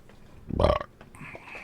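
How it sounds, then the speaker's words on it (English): One short, loud, close burp after eating spicy food during a hot-wing challenge stream, followed by quiet background noise. "Ooh, that was a spicy burp."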